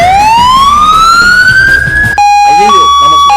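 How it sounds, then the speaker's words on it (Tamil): An ambulance siren wails loud and close, one long rising tone that then switches to a steady two-tone pattern. Heavy vehicle rumble runs underneath. "அது ஆம்புலன்ஸ் சவுண்ட்ரா"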